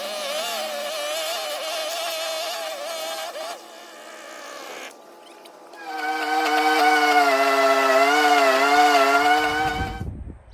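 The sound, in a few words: string trimmer weed eater running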